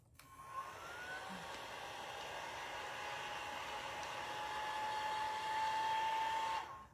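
A hair dryer blows steadily on a painted craft project, a close, continuous whirring hum with a faint whine that holds for several seconds before cutting off.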